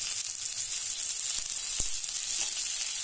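Steady, loud hissing sizzle of chopped coriander leaves and onions frying in a pan for kadhi pakora, continuous throughout with a couple of soft knocks from a spoon.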